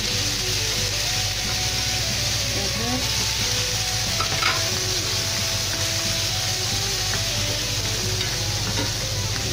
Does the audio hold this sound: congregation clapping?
no